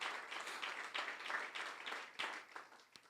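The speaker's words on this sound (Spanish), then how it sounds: "Dale un aplauso." A church congregation claps during a sermon, a brisk crowd of hand claps in uneven bursts, fairly soft and distant, fading toward the end.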